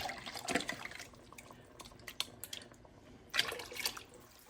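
Beef stock is poured into a pot coated with tomato residue, making quiet, irregular splashes and drips with a couple of louder bursts of liquid.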